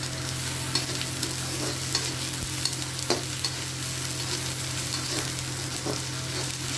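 Garlic-ginger paste frying in a pan for chole, a steady close sizzle with occasional spoon scrapes as it is stirred, no voices.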